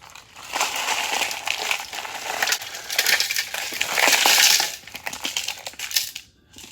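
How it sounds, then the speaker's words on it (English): A blender pulses ice with whole milk and coffee for a pumpkin spice frappuccino, giving loud close bursts of crunching, rattling ice that swell and fade over several seconds before cutting off. "we're going to pulse it so the ice can break"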